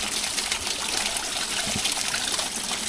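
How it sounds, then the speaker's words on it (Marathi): Clear stream water flows steadily along the Naneghat trek, an even rushing and trickling sound close by, with no voices. "इथे पाण्याचा प्रवाह वाहताना दिसतोय"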